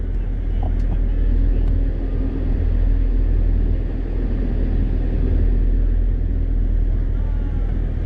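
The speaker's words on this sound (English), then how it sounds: "We've got sweep car out on course, which is a Camaro." A Chevrolet Camaro sweep car drives an autocross course on a former air force base, giving a continuous low engine rumble heard from a distance that rises and falls slightly, with a commentator talking over it.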